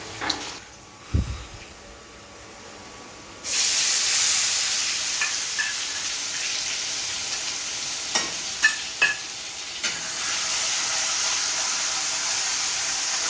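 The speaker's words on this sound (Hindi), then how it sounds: "इधर आलू फ्राई कर रही हूँ" Potatoes fry in a pan on a stove, starting with a few knocks and clatters before a loud, steady sizzle rises and holds. Occasional stirring clicks sit over the close, continuous hiss, and no one speaks.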